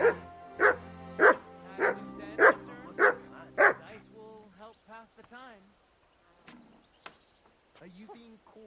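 A dog in a game barks on command about six times in a steady, evenly spaced run, loud and close, followed by softer whines and small yelps.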